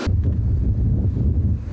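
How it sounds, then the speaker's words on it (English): Steady wind gusting across an outdoor microphone, a dense low rumble with buffeting that carries on unbroken from start to finish, loud and close with no voices. "when the wind blows"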